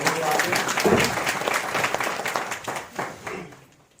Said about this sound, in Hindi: चाहता हूँ कि आप कुछ तालियों बजाकर इनको मेरे साथ में